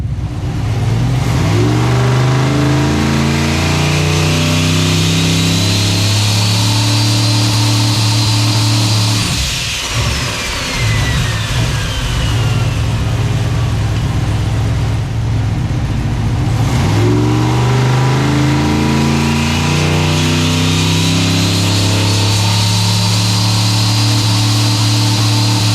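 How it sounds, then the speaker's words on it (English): A car engine held on a two-step launch limiter with a new Suncoast torque converter, revving up and popping in long loud sustained runs, twice with a brief drop between; close and dominant. "I'm just happy to be making freaking two-step noises now."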